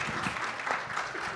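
A small audience at a real estate productivity talk claps briefly, a short, even patter of hands that is moderately loud and continuous across the moment.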